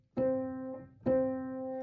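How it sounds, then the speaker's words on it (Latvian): The same sustained note, C, is played twice as a perfect unison, about a second apart, each with a clear attack and slow decay, quiet and alone. "Pirmais tīrais intervāls ir tīra prīma."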